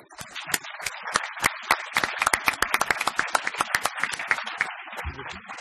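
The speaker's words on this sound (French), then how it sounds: "On va applaudir le panel." A small audience at an immigration conference applauds a panel with sparse, distinct hand claps, irregular and fairly close, that thin out near the end.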